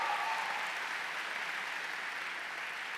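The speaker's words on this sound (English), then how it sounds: "Could we actually just get a round of applause for Miss Nira?" Graduation audience at a secondary school ceremony applauding in a steady, dense wash of clapping that holds loud and even throughout, with no talk over it.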